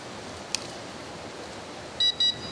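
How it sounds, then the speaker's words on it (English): An alarm clock gives a single short electronic beep, then two quick high-pitched beeps close together, nearby. "It even beeps, because it's an alarm clock after all."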